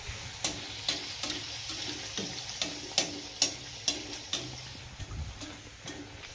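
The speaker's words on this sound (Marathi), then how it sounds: "आपलं तेल गरम झालं. याच्यामध्ये आता आपण या पुऱ्या सोडूया एक एक." Spinach puris are frying in hot oil, making a steady close sizzle broken by a regular series of sharp ticking pops and clicks, about a dozen in quick succession, with no talking.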